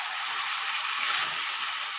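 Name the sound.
onion paste added to hot oil with whole spices, sizzling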